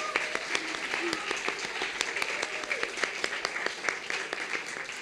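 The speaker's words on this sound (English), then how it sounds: "So let's give him a big round of applause." An audience gives a sustained round of applause at a civic gathering, dense steady clapping from many hands, mid-distance, filling the whole stretch with only faint voices beneath.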